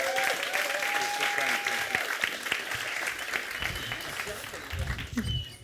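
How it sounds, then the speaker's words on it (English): Audience applause following a keynote speech at an academic event on intergenerational solidarity, steady clapping from a hall crowd sustained throughout, with a few louder bursts near the end. "You can applaud."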